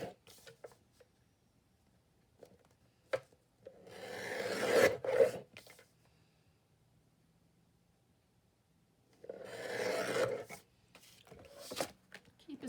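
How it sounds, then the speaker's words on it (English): Paper image being trimmed by hand for a pocket page layout: two bursts of dry rasping, rubbing cuts separated by quiet, with scattered small ticks and taps around them, close and soft. "I'm going to trim this down."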